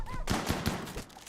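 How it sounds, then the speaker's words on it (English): Several rapid gunshots fire in a short, faint burst in the video game Rimworld, sounding as distinct evenly spaced cracks. "Sorry, what was that? Gunfire?"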